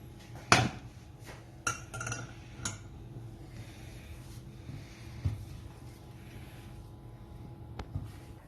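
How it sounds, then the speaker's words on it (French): A spoon scrapes and clinks against a bowl while almond dough for chebakia is mixed, sparse sharp knocks and clatters scattered over a quiet background, one loud strike early on and softer taps after. "on mélange bien pour que ça fasse bien une pâte"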